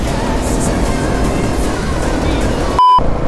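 KTM 690 Enduro single-cylinder motorcycle riding out of town, heard as a loud, continuous engine drone mixed with heavy wind rush, steady throughout with a brief electronic tone near the end.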